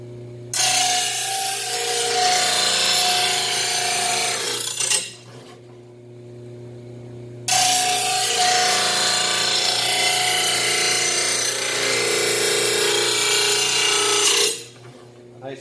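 Oregon blade grinder sharpening a warped chainsaw blade: two long, loud, harsh grinding passes over a steady motor hum, with a short quieter gap between them and the grinding easing off near the end.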